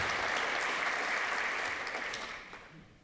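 Audience applause at a panel discussion on a presidential election, a dense steady clatter of many hands that fades out toward the end.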